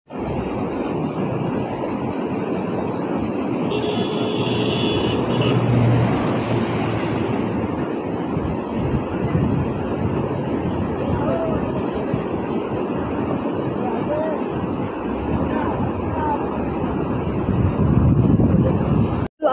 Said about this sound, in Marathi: फुल पाऊस दिवस आणि वरनं धबधबा, वरनं पाणी येते